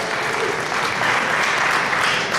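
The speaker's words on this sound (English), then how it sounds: "give yourself an applause" A jazz honor band concert audience applauds parents and band directors, producing a steady, dense clapping that holds even and fairly loud throughout without a break; no voices stand out.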